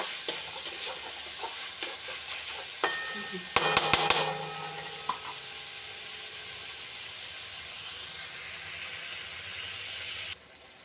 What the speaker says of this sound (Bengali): এটাকে ভালো করে ফ্রাই হতে দিই